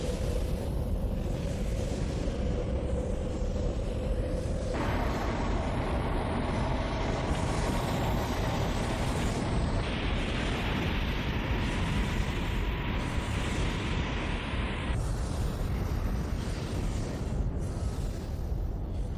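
A fleet of two thousand spaceships firing their engines in an anime battle scene gives a continuous loud roar with a whining tone that shifts in pitch every few seconds. It is a steady wall of noise with no talk.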